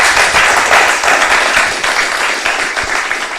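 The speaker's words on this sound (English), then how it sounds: "another great round of applause for all the speakers" An audience at an academic talk on EEG microstates applauds the speakers, loud sustained clapping from many hands filling the room throughout and fading slightly toward the end.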